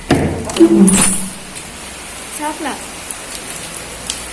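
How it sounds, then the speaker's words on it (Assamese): Heavy rain falls outside a balcony in Mumbai as a soft steady hiss, with a few loud clinks and knocks early on and a brief voice speaking. "কেনেকুৱা বৰষুণ দিছে মানে"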